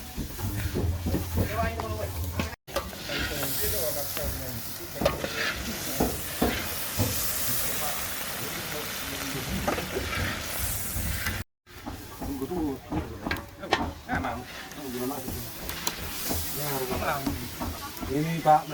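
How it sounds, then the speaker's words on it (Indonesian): Buffalo meat saksang stirred in a large pot for a big traditional Batak feast: hissing sizzle and steam with repeated scraping, clanking stirring strokes, under frequent talk nearby. "Kalau masak besar itu kita harus benar-benar aduk."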